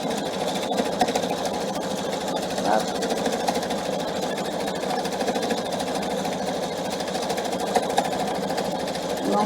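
A PFA sewing machine stitches thick, stiff thread in a steady, fast mechanical rattle, close and continuous throughout.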